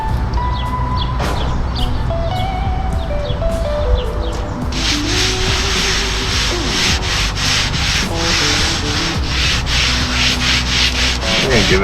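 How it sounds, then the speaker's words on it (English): A new cast iron griddle being scrubbed clean of its factory coating, with a loud, continuous rasping scrub and repeated rubbing strokes close by, joined by a hissier rinsing or spraying texture partway through. "Give it a good scrubbing and a rinse."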